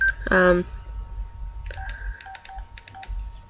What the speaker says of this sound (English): This is my cheap-ass little phone, and yeah, I know you have a low battery.